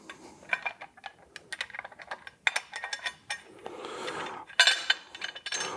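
Bolts being run down by hand on an LS Camaro alternator bracket, with quick metallic ratcheting clicks, tool taps and small clanks in irregular bursts, close and moderately quiet.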